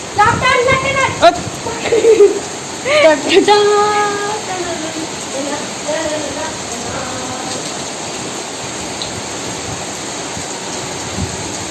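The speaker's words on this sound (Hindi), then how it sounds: "बहुत ज़्यादा बारिश हो रही है" Heavy rain pours down steadily outdoors near a park, a dense, continuous wash of noise, with people talking over it early on before it continues alone.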